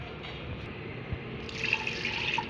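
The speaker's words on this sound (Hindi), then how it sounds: "अब पानी डालेंगे 1 गिलास" Water being poured into an open cooking pot on a lit stove while making chicken yakhni. The pour runs steady and close, with a brighter splashing rise near the end, and no voices.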